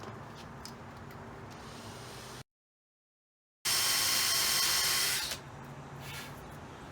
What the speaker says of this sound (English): Take a small center drill, make sure it's sharp, and be very careful because you're doing this by hand.